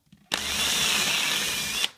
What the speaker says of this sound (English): drilled in with my drill to get a pilot hole started